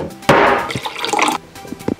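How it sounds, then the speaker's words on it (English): A quick sip of water from a glass or bottle during a break from inking a comic drawing: a short burst of liquid and swallowing sounds up close, followed by a couple of soft gulps. "now a quick sip of water"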